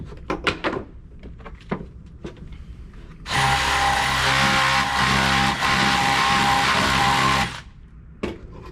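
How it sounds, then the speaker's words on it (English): Power drill boring out and enlarging a hole during rainy-day electrical work, one loud continuous whirring burst of about four seconds with a steady pitch, preceded and followed by light knocks and handling noises. "looks like I need to waller that one out a little bit because I didn't drill it straight"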